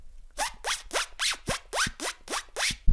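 Beatboxed side zipper: a mouth-made sound imitating a zipper, repeated nine times in a quick, even rhythm, each burst a sharp rising scratch, close and dry with no talking.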